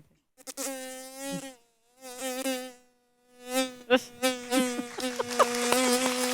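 A voice imitates a buzzing housefly with drawn-out, wavering hums, several separate bursts that grow busier and more continuous toward the end, loud and close with no other sound.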